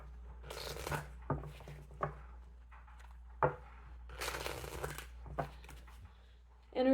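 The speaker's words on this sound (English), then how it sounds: "Do 2 more shuffles." Tarot cards being shuffled by hand during a reading, soft riffling bursts and sharp slaps of the deck recurring irregularly, close and fairly quiet over a low steady hum.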